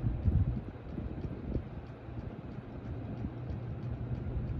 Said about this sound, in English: is pushing a very strong breeze for some home center fan